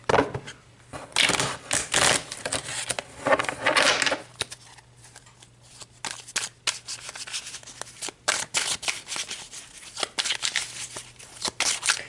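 Tarot cards being shuffled and pulled at close range, with repeated riffling and sliding bursts, crisp card flicks and soft taps in an irregular rhythm, and no talk over them.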